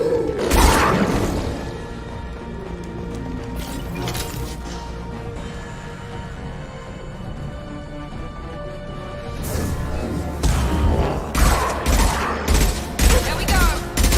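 Gunfire in a Mass Effect 2 firefight, scattered shots and bursts crackling over a busy battle mix, louder near the start and again toward the end.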